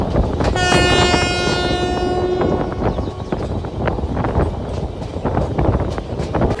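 The Kacheguda Express passenger train rolls along at speed, heard from on board: a loud, steady rumble and rattle of wheels on track throughout, with a long sustained horn blast in the first half.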